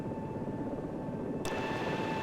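Helicopter turbines from the Vietnam Med Evac video game whine as a steady, close engine drone with a sustained tonal hum, and a brief click partway through. No voices.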